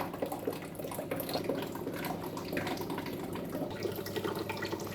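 Hot water mixed with ground spices poured into a pot of potatoes being cooked with fish, giving a continuous close gurgling splash that holds steady for several seconds, with no speech.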